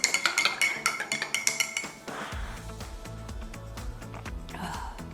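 A teaspoon of collagen powder is stirred into coffee: a rapid run of light metallic clinks and taps of spoon against a cup, close and crisp, followed by quieter background with soft music.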